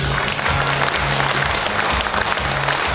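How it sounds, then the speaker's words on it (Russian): A crowd at an agricultural workers' awards ceremony honoring combine operators gives loud, sustained applause, with a low tonal hum running beneath the clapping. "Ваши бурные аплодисменты."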